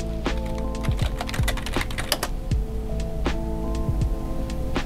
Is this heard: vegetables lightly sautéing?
no